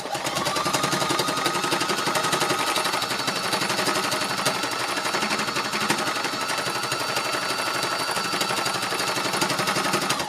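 An embellishing machine punches its needles rapidly through layered fabric pieces, matting them together in a steady, loud, fast mechanical hammering that runs continuously without pause.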